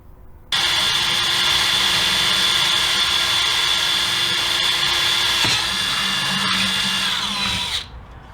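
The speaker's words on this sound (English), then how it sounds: "I need to still drill a hole through the bottom of this plastic shroud" Power drill bores a hole through the plastic fan shroud of a 2001-2004 Jeep Grand Cherokee 4.7L during an electric fan conversion, a loud steady whine that dips in pitch as the bit bites, then winds down and stops.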